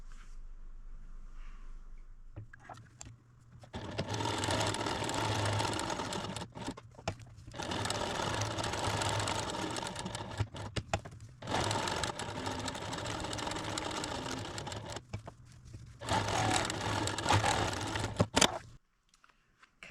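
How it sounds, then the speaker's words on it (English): Sewing machine stitching around a fabric potholder: four long runs of rapid, steady motor whirring and needle clatter, broken by short pauses, close and clear with no talk. "Now let's go sew around this one."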